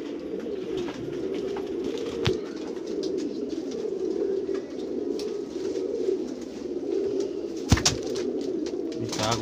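Pearl-patterned red-eyed pigeons coo in a low, continuous murmur for the whole stretch, steady and close, with a couple of sharp knocks or wing-flaps breaking through.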